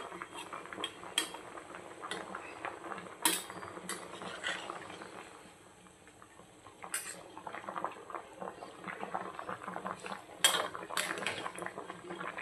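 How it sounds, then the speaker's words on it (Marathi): Potatoes for french fries boil in a pot of water, giving a steady soft bubbling hiss with scattered clinks of pot and utensil, moderately quiet and without talk. "साधारणतः 5 मिनिटभर आपल्याला हे असे छान उकळू द्यायचे आहे"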